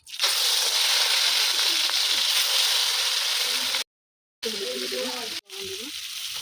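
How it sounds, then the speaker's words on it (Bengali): Prawns dropped into hot oil for a lau chingri dish, a loud, close, rushing sizzle that cuts out briefly and then resumes, with a voice speaking over the later part. "আমি চিংড়ি মাছগুলো ভেজে নেব।"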